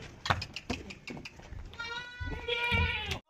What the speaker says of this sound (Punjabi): ਇਹ 7ਵੇਂ number ਵਾਲਾ ਬੱਕਰਾ